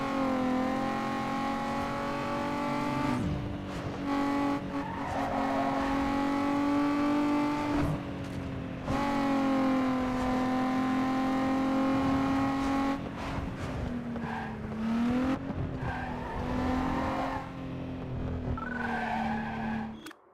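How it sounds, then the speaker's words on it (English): A Toyota Supra in Need For Speed: Underground 2 holds a loud, sustained engine drone that climbs through gears, with tire squeal and skidding between shifts and sharp drops and rises in pitch, heard close with no talking. "that sounds like a Supra"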